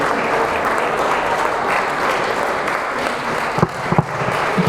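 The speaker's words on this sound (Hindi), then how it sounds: "जोरदार तालियां अकरम साहब के लिए।" Audience applause at a district-level school prize distribution ceremony, sustained crowd clapping at an even roar for several seconds, with a few sharper claps near the end and no speech.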